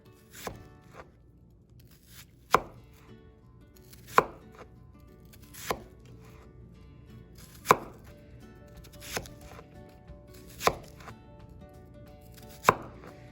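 A knife chops food on a cutting board in sparse, irregular strokes, each a crisp close thud with faint scraping between, no talking.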